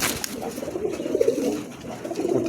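A young adult pair of pigeons, an Andalusian female and a mosaic-coloured male, coo in low, soft, rolling phrases close by, with a faint background hiss and no talking.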